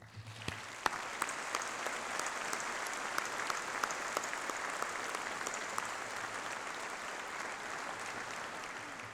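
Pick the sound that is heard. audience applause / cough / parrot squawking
audience applause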